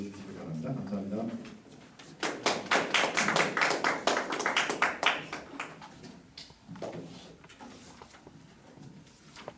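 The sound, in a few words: audience applause welcoming a speaker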